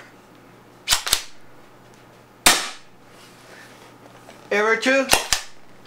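A Spyder Hammer 7 .68 caliber paintball marker running on a high-pressure air tank fires breaker balls in sharp, loud cracks, mostly in quick pairs, and a voice speaks briefly between shots.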